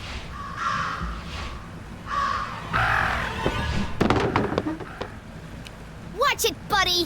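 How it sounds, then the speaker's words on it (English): Crows cawing in the detective adventure game, harsh repeated calls mixed with spoken dialogue, scattered clicks and thumps of game action, then a few quick squawks near the end. "Talk about a murder of crows."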